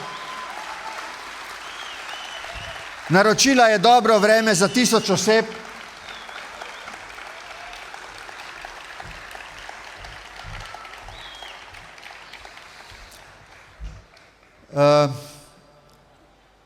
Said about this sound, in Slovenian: En aplavz za Klaro, ki se je skupaj z drugimi tako potrudila